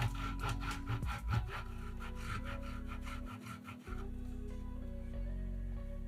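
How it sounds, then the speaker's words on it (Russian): Cheese being grated on a fine grater, about 80 grams, a steady close scraping rasp in repeated strokes over a low background hum, with no talking. "80 грамм сыра трем на мелкой терке."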